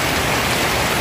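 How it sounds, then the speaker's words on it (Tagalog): Heavy rain pouring down in Marikina, Philippines, in a dense, continuous hiss, loud and steady with no pauses. "Lakas ng ulan."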